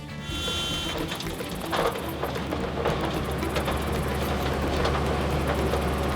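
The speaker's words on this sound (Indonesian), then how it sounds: "dipergunakan kereta lori atau kereta pengangkut tebu ini" Rumbling, clattering sugarcane lorry rail cars roll steadily along close by in Indonesia, with repeated metallic knocks and rattles over a constant low drone.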